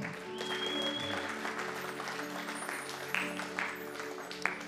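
A church congregation applauds and cheers for Jesus during a sermon on the birth of Jesus, a dense steady wash of clapping and voices that holds at one level throughout, with a few sharper claps standing out near the end.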